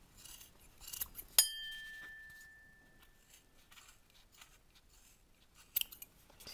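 Scissors snipping the yarn of a pompom, a sharp close cut with a ringing metallic tone, then quieter scattered snips and handling noises.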